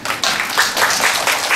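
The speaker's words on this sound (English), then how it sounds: "let's give a big round of applause to" An audience applauding speakers at an academic humanities forum, a steady, dense patter of many hands clapping together throughout, moderately loud and without talk.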